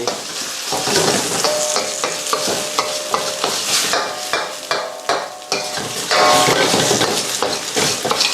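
Eggs stir-fried with shiitake mushrooms in a wok for dry-fried shark fin: loud, steady sizzling with repeated quick scraping tosses and occasional metal clinks, close up and free of talk.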